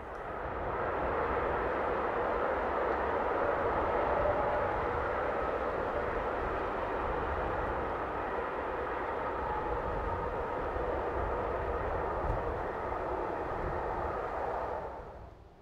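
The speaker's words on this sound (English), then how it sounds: "This one heads north on the left bank line with a train of Porsche car bodies from Devinska Nova Ves in Bratislava to Dresden" A Taurus Class 183 electric locomotive hauls a freight train of Porsche car bodies northbound along the Elbe valley line, a steady distant roar that swells and holds before fading at the end.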